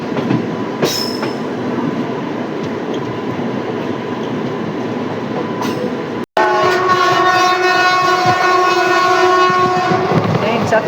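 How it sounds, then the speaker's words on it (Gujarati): A passenger train on the Veraval–Bhavnagar or Porbandar–Rajkot line rumbles loudly along the rails, then after a brief cut a sustained metallic brake squeal rises in several steady tones over the continuous rolling noise, heard from on board. "તમે પણ આ સરસ મજાનું બ્રેક સાઉન્ડ સાંભળો"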